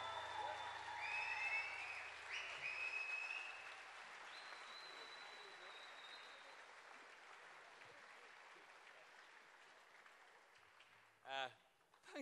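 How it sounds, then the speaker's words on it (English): Concert audience applause for electric guitarist Paul, a broad wash of clapping that starts fuller and fades down over several seconds, with whistles on top early on and a brief separate sound near the end. "Give him a big round of applause."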